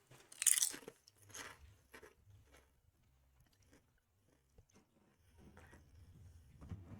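Close crunching and chewing of crispy potato chips, a loud crackly bite at first followed by softer, intermittent chewing crunches, with no talking.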